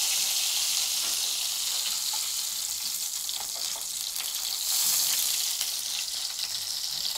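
Food sizzles and fries on an electric grill pan, a steady bright crackling hiss close up with small pops and occasional stirring, no voices.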